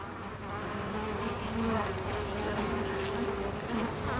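Honey bees from a swarm colony buzzing in an opened hive, a dense steady drone of many wings close by with individual bees droning higher as they pass near.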